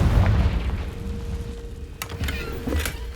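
A Confringo fire spell bursts in Hogwarts Legacy, opening with a deep, rumbling boom that fades, followed by a couple of sharp cracking impacts.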